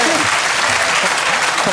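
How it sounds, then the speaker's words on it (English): Dense, loud studio audience applause on a television chat show fills the short stretch, steady and close, with a few faint voices mixed in. "Don't clap that."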